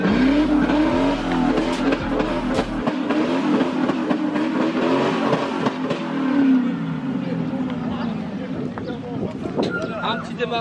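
Expensive supercar engine firing up and revving hard, a loud close roar that swells and settles, with people talking over it throughout.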